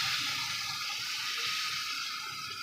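Leftover beef stock (yakhni) pours into a pot of beef pulao, a steady, continuous rushing gush of liquid, close and unbroken for the whole moment.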